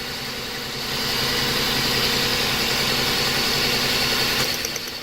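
A car engine idles roughly and unevenly with one spark plug ignition coil pulled, a steady close mechanical drone with a faint shaky vibration and no talking.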